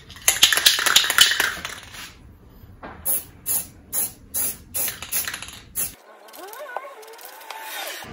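Short bursts of spray paint dusting the edges of a faux woodgrain PVC sign, a quick run of evenly spaced hisses with brief gaps, close and fairly loud, after a denser stretch of spraying.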